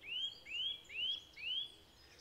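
A blackcap sings in oak woodland: four clear, evenly spaced rising whistled notes, fairly close and prominent over a quiet background, with no voices.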